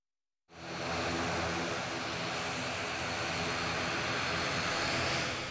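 An airplane arriving at a small airport on Buton Island, Indonesia, with a steady, loud engine roar that swells in suddenly and holds as a broad, continuous drone.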